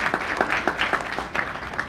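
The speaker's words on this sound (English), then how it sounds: "Please join me in giving them a round of applause." An audience at a research day keynote and award ceremony claps steadily in a short burst of applause, a dense patter of many hands heard from within the hall.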